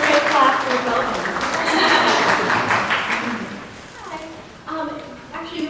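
Convention panel audience applauding at New York Comic Con, a sustained wash of clapping mixed with crowd voices that tapers off, then a few voices and claps return near the end.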